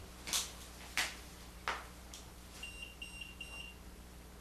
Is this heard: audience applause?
no